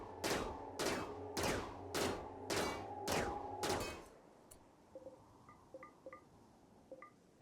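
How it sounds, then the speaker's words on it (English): Gunfire in the video game RimWorld as a ship is shot apart, about six loud evenly spaced bursts of shots, followed by faint scattered metallic clinks and ticks as the firing stops. "we can now send Cambia over to the ship to shoot it to bits and pieces"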